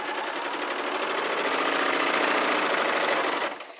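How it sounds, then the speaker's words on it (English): Sewing machine stitching fabric facing pieces down short seams, a fast, even mechanical rattle of needle strokes, close and steady for a few seconds before tapering off at the end. "we just go ahead and stitch them straight down the short seams"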